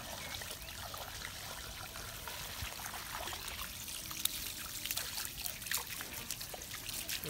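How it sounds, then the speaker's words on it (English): Steady splashing water from a hose washing down a gutted gummy shark, a continuous trickling spray with small irregular splatters throughout, close and fairly quiet. "Give them a good hose out."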